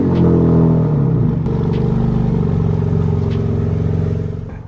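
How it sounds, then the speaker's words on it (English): A 2026 Dodge Charger fitted with rear slicks backs in slowly, its engine a low, steady rumble at close range with a slight dip in pitch early on, then idling evenly until it fades at the end. "So now it's time to back the car in."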